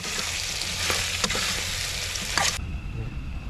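Tomatoes drop into a hot frying pan and set off loud, steady sizzling and frying with a few stirring scrapes, then the hiss cuts out near the end.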